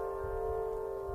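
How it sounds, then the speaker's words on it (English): A steady, sustained drone of resonant string tones hums evenly, a wind harp sounding soft and continuous with a low rumble of wind beneath, in the center of Stonehenge on a summer solstice. "what you're hearing is an Aeolian harp, wind harp, placed in the center of Stonehenge"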